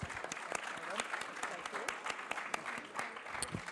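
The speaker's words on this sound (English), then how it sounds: "So can we give them all a warm round of applause, please?" Audience at the Munich Security Conference 2017 applauding climate security panelists, steady, moderately distant clapping from a full hall, sustained throughout.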